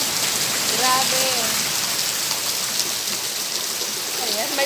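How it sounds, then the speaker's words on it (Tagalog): Heavy afternoon rain pours in a steady, loud hiss of drops pelting surfaces up close, with brief faint chirps, likely frogs, rising through the downpour. "Grabe, ang lakas ng ulan."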